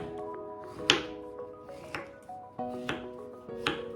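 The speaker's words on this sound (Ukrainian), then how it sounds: "нарізаємо такими величенькими кубиками, подрібнюємо" A knife cuts a pear into large cubes on a board for a cottage cheese fruit casserole: about five crisp, separate knocks close by, spaced roughly a second apart, with no talking.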